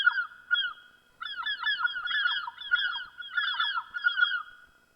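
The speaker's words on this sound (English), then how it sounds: "sort of you see these birds kind of moving around" Bird calls played as a sound effect in the Sound Particles app, a series of rapid, honking, goose-like calls in quick bursts, clean and alone against silence.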